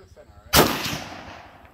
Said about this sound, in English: Good shot, Caleb.